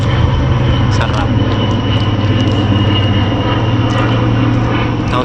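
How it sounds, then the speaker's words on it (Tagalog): Low steady drone of an airplane passing overhead somewhere in the Philippines, broad and continuous across the whole span, with speech and ambient activity layered over it. "Tapos may aeroplano pang dumadaan."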